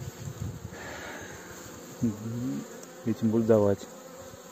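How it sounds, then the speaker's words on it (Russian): Honey bees buzz steadily around hives at a forest apiary where wintering went badly, a low drone under someone speaking Russian nearby. "Пчелки летают, конечно."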